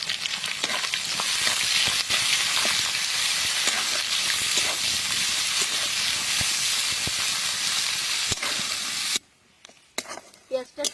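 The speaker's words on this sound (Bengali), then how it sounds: "পেঁয়াজটা একটু লাল লাল করে ভেজে নেব।" Chopped onion sizzles and hisses loudly in hot oil with cumin, dried chilli, cardamom and bay leaf, with occasional stirring clatter, before the frying cuts off abruptly near the end and a few quiet knocks follow.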